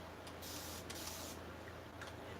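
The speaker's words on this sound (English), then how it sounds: "let's spray this really good" A spray can hisses in several short bursts over a banquet side table being given a distressed mixed-media finish, quiet and close with no talking.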